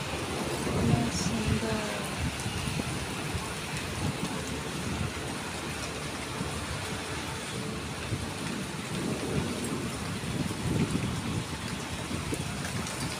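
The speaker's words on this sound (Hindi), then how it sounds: "बहुत तेज बारिश हो रखी है" Heavy rain pouring in Himachal, a steady dense hiss of downpour with drips and rumbling low undertones throughout, close and continuous with no pauses.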